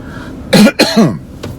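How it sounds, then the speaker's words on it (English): A couple of harsh, close coughs in quick succession, with a quieter throaty sound trailing after. "Got a little bit of a cough going on right now though."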